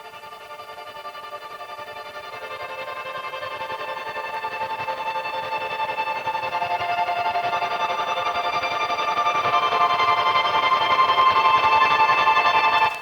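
Guitar run through a Portal glitch plugin, a dense sustained harmonic drone with shimmering, processed overtones that swells gradually louder and then cuts off abruptly at the end.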